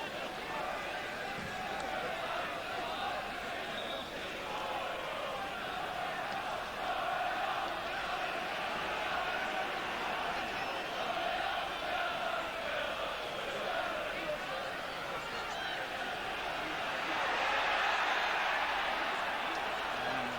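A noisy football crowd at St James's Park, Newcastle, during a 1986 match against West Ham keeps up a steady roar and murmur with a swell near the end, under continuous commentary.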